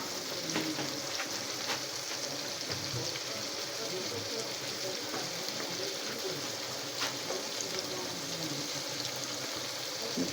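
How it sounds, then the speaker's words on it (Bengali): Spices sizzle and fry steadily in hot oil in a pot for homemade beef biryani, a continuous close crackling hiss with occasional stirring scrapes, and no talk. "এই যে মশলা ভেজে মশলার উপরে তেল উঠে গেছে।"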